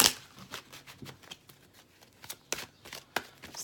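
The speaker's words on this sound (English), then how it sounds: "let me shuffle the Psychic Tarot just in case" Psychic Tarot cards being shuffled by hand, a quick series of crisp papery riffles and flicks with short bursts and pauses, close and fairly clear with no talking.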